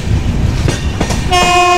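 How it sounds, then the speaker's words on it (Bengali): Ahmedabad Express pulling into Madhupur junction, with rumbling wheels and track noise, then a loud sustained horn blast near the end, close by and without talk. "আহমেদাবাদ এক্সপ্রেস পৌঁছালো মধুপুরে এই ট্রেনের 2য় হল্ট"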